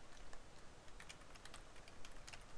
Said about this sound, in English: now you can't see when I type in passwords